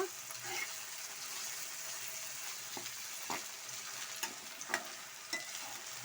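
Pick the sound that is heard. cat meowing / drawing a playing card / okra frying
okra frying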